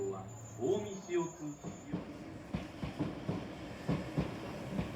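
A maroon train on the Ishiyama Sakamoto Line by Lake Biwa rolls past, its wheels giving a rhythmic clickety-clack over rail joints at moderate distance, with a voice talking at the start.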